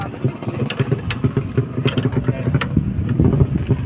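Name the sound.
motorcycle exhaust of a Yamaha ADMS 125 engine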